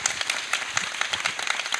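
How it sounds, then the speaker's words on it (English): Audience applause at a triathlon club gathering in San Diego, a steady patter of many hands clapping, fairly quiet and continuous throughout with no voices over it. "How about a round of applause for Mr. Ben Kanute?"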